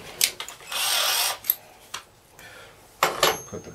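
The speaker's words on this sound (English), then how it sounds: "get the drill" A power drill whirs in a short burst while installing a truck camper shell, followed by scattered clicks and knocks, then another brief drill burst near the end.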